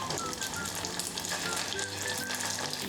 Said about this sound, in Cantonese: 用中細火炸到表面呈金黃酥脆